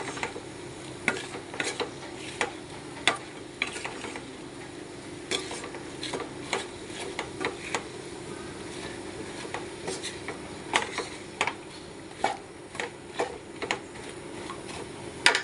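Hog plum (ambazhanga) pickle sautes in oil with a soft steady sizzle while a spoon scrapes and taps the pan in repeated close clicks.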